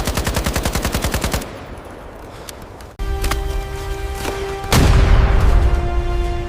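Bursts of automatic gunfire in a battle scene: rapid, evenly spaced shots, then a quieter stretch of scattered single cracks, followed by a dense, loud, sustained volley close up.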